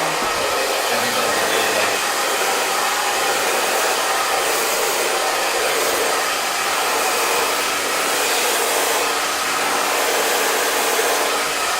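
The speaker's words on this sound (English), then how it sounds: "Now I'm going to start the blow dry." A hair dryer blow-drying hair runs at full power, a loud, steady, unbroken rushing roar from start to finish with no voices.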